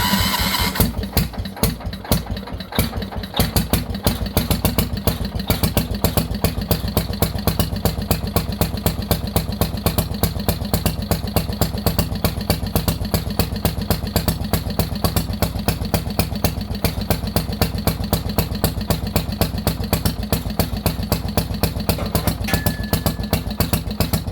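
A Kohler K241 10 hp single-cylinder engine runs with the throttle slightly open, a loud, close, steady fast chugging that holds an even beat with no talking.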